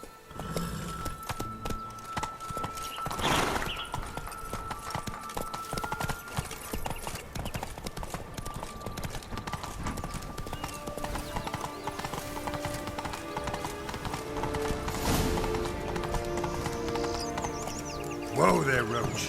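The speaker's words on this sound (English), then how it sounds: "Whoa there, Roach." Steady hoofbeats of a horse galloping in The Witcher 3: Blood and Wine, a continuous rolling clip-clop under game music with an occasional whinny and brief character speech.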